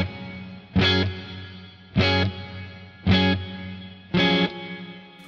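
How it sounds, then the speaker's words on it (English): Electric guitar through a Plexi-style amp tone with glitz reverb and added delay, four strummed chords at even intervals, each blooming and trailing off in a wash of reverb, with no talking. "I'll start at the end with the glitz reverb settings"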